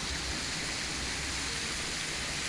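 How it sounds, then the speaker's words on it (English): Falling water from a fountain by a hotel pool, a steady, dense wash of splashing that fills the whole stretch without a break. "Nice pool and some kind of a fountain"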